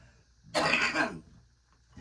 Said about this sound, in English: I feel a cough coming